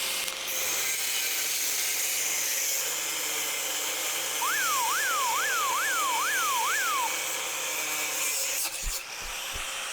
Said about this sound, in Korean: 이번에는 T찹 그라인더로 한번 절단해 보도록 하겠습니다.